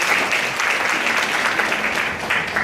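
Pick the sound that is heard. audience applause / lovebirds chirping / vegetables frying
audience applause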